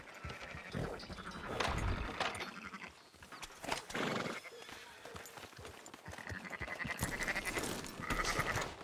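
Several sheep bleat at intervals in the video game Red Dead Redemption 2, over a busy background of hoof clops and shuffling, with an occasional voice in the mix.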